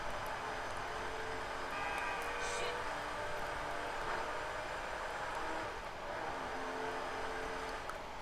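Car in GTA 5 accelerating through the gears, a steady engine drone under continuous talk.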